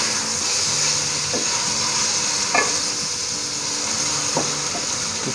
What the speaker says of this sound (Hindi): उसके बाद हम डाल देंगे टमाटर जो हमने काट के रखे हुए हैं और इन टमाटरों को एक दफ़ा ज़रा मिक्स करके